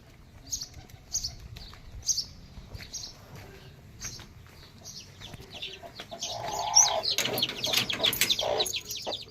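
A hen with chicks clucks and chirps in short repeated bursts, then a louder flurry of squawking and scuffling breaks out nearby toward the end.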